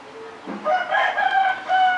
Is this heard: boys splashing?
no